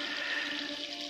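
Water rushes steadily from a hose while trees are watered in Thailand, a continuous even splashing flow heard close and alone for a brief moment.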